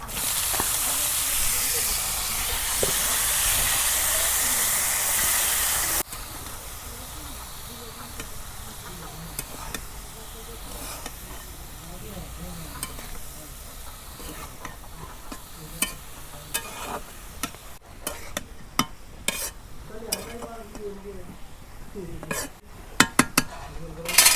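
Cabbage frying and being stirred in a pan in a village kitchen: an initial hiss of steam, then quieter sizzling with scattered spatula scrapes and clinks of utensils.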